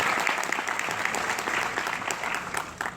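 Steady applause from a large crowd at the opening ceremony of a Korean taekwondo expo, dense and continuous clapping throughout, fairly loud and even with no voices standing out.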